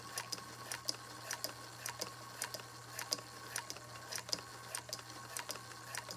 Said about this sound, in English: And just sew right on the line.